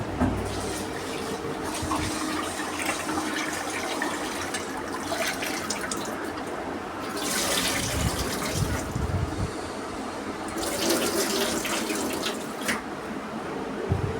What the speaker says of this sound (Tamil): இப்போ இந்த ரைஸை வந்து இன்னும் ஒரு டைம் நான் வந்து வாஷ் பண்ணிக்கிறேன்